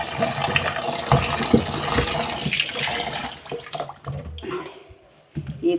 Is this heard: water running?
yes